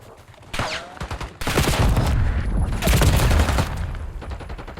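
Rapid gunfire in a shooter video game, bursts of repeated shots that grow denser and louder, with brief gaps between volleys.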